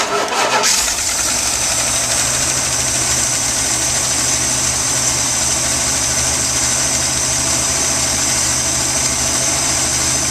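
A 1978 Dodge RV engine fresh from a carburetor rebuild cranks briefly, then catches and settles into a loud, steady idle close by.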